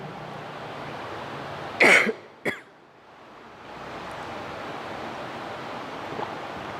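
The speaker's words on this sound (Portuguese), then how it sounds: "a gente ficou tossindo muito" Two sharp coughs close to the microphone, one after the other, over a steady wind-like rush of background noise.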